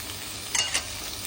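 Blended garlic, shallots and ginger fry in a hot pan with a steady hiss, and a couple of brief stirring scrapes stand out near the middle.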